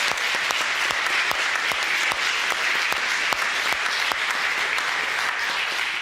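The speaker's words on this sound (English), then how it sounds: "All right, we can applaud that." A church audience applauds steadily for several seconds, a dense wash of many hands clapping at an even level with a few louder individual claps standing out, without any talk over it.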